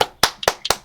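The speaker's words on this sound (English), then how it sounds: "Yeah, round of applause." Three sharp, close hand claps in an even rhythm, short and loud, with no other sound.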